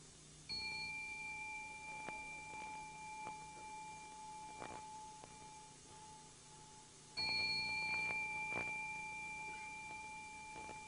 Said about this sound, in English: Rohatsu Ozeshin begins with the ringing of the morning bell